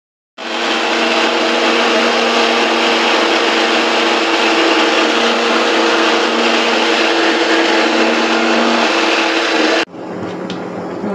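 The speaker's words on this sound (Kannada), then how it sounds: "ಆಮೇಲೆ ಸೊಪ್ಪು ರುಬ್ಬೋದು" A kitchen mixer grinder runs steadily at full power, grinding leafy greens with water for a lentil and greens sambar, a loud continuous whirring whine that cuts off sharply near the end.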